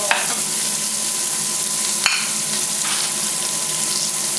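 Peas cooking in a pan over medium heat give a steady, close sizzle and fry with a few small pops and a light stir; no talk.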